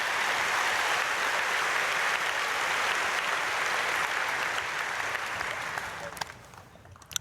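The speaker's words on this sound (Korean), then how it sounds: "박수해 주시길 바랍니다" Applause from a church congregation at an early-morning prayer service, a broad steady wash of clapping that holds for several seconds and then thins out near the end.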